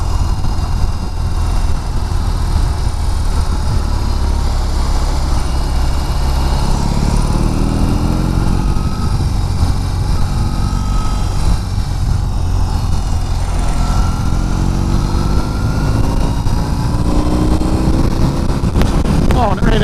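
A BMW R18 First Edition motorcycle engine growls and revs while riding, a loud continuous rumble rising and falling through the gears with strong wind noise.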